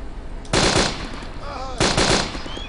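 Bursts of automatic gunfire in the post-apocalyptic video game Wasteland, two loud broadband volleys about a second apart with a faint tonal whine between, over a low steady background.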